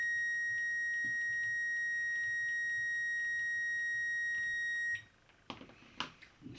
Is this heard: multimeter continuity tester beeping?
yes